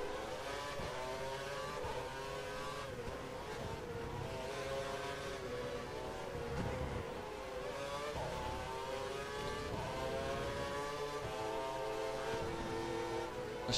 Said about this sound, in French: Je sais pas si c'est la voiture de Vettel qui fait ce bruit là